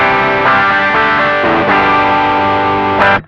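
An electric guitar plays through an Ibanez TSMINI Tube Screamer Mini overdrive pedal with the drive knob at noon, giving a moderately crunchy, loud tone. Several chords are strummed and left to ring, and the last one is cut off sharply.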